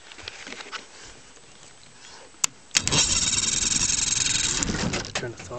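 A 1957 Evinrude 18HP electric-start outboard motor with low compression: a couple of sharp clicks, then it catches and runs at a loud, steady idle close by, easing off near the end.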